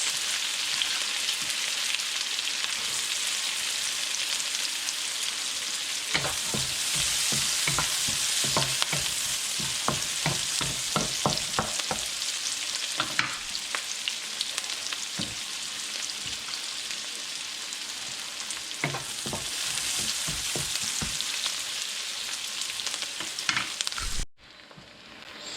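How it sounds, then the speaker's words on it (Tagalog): Garlic and onion sautéing in oil for a beef kaldereta make a steady, bright sizzle, with bursts of spoon scraping and stirring, before the sound cuts off abruptly near the end. "So ngayon, igigisa na natin."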